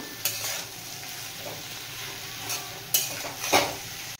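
Potatoes and long beans frying in a pan, a low steady sizzle broken by a few sharp scrapes and clinks of a spatula against the metal, close by with no speech.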